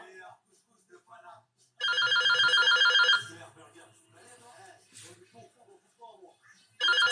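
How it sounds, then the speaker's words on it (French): A telephone rings indoors in bursts of bright electronic trills, loud and clear between pauses, while a person speaks French quietly in the gaps between rings. "je dois attendre que le téléphone arrête de sonner pour continuer"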